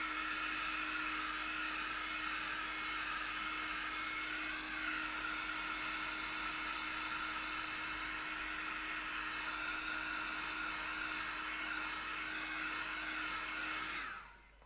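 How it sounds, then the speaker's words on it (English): A hairdryer blasts steadily over a watercolour painting, a loud continuous airy roar with a high whine that holds for about fourteen seconds before cutting off abruptly. "Let me just quick blast with the hairdryer just so I can see the softer tones."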